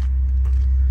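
A steady deep engine rumble from a loaded, dirty truck about to reverse out, heard up close and continuous for about a second.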